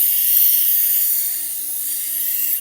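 A knife being sharpened on a Tormek grinding wheel makes a steady, close, bright hissing grind that holds almost unchanged for a few seconds and then cuts off abruptly, with no talking.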